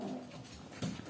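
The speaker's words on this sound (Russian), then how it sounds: "поэтому вы слышите на фоне моих собачек" Small dogs whimper and whine in the background, a soft, continuous indoor sound with a brief louder yelp near the end; no one speaks.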